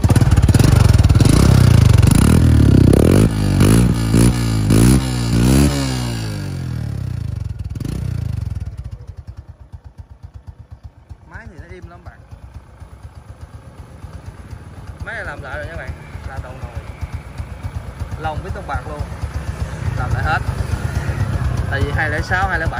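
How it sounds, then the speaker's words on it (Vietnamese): A Honda-style Yamaha Freego/Neo 125cc fuel-injected motor scooter engine cranks and fires up loudly, drops briefly, then settles into a steady chugging idle that gradually rises in level, heard from about 1 to 1.5 metres. "Thì bây giờ mình sẽ nổ máy cho anh em nghe luôn á."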